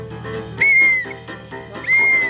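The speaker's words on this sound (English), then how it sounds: "Blow the whistle." A whistle is blown twice during a kids' outing in an Argo 8x8 amphibious vehicle stuck in deep mud. The two shrill, steady blasts are loud and close, over engine rumble and short bursts of chatter.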